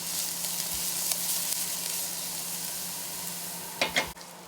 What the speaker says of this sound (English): With sweating, we want to have our heat low so we can have a clear and translucent color on our onions.